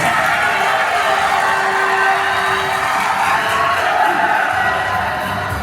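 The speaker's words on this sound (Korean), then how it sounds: "박수 부탁드릴게요" Loud, steady crowd cheering and applause from an audience at a bodybuilding Grand Prix championship, a dense continuous roar with shouts and whoops throughout.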